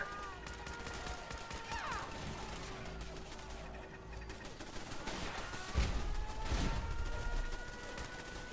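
Defensive turrets in a Fallout 4 settlement kill box fire in sustained bursts, a dense rattle of gunfire with heavier reports that swell toward the end, heard at moderate distance without speech.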